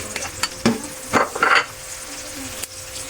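Garlic and onion frying in hot cooking oil at the start of a beef lasagna, a close bright sizzle with a few scraping stirs and clinks of utensil against pan, no voices heard.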